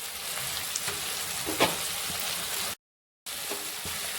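Spicy masala for a potato curry fries in a pan, a steady crackling sizzle with small pops and a scrape or two, close and moderately loud, broken briefly by a short silent gap.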